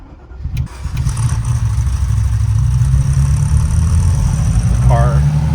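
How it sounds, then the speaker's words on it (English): A 1986 Ferrari Mondial 3.2 coupe engine runs at a raised cold-start idle in near-freezing weather, a steady close mid-pitched drone that holds evenly throughout, with a brief higher squeak near the end. "car raises idle like it's supposed to."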